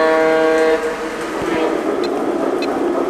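A model Fairbanks Morse Wabash freight locomotive on a layout sounds a sustained horn at first, then its motor runs with a steady whirring rumble and light clicking, fairly loud and close.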